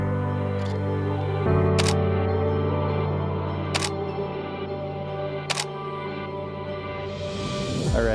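A Canon camera fires short bursts in high-speed continuous shooting mode outdoors, with crisp rapid shutter clatters at a few separate moments over a quiet background and no talk.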